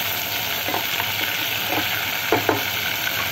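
Prawns stir-fried with oyster sauce sizzle steadily in a pan, broken by a few scraping stirs of a utensil, close and with no voices.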